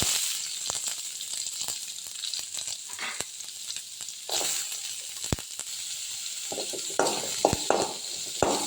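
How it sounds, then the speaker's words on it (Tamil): Onions sautéing in hot oil with popped mustard seeds, a soft steady sizzle and hiss with scattered clicks and light stirring scrapes, fairly faint and close, no speech. "கடுகு பொரிஞ்ச அப்புறம் வெங்காயம் சேர்த்து வதக்கிக்கோங்க"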